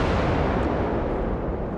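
Heavy sustained rumbling blast from a Firebird machine's bombing run in the Generation Zero game, a dense broadband roar that fills the whole stretch at steady loudness with no talk.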